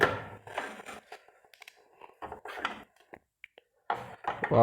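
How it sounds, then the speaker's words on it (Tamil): Tied packaging on a boxed Butterfly two-burner LPG gas stove is cut open, giving a few short, crisp snips and rustles separated by quiet pauses. "இதை வந்து இப்போ நம்ம எப்படி இதை வந்து நம்ம கட் பண்ணி பார்க்கலாம் உள்ளே எப்படின்னு"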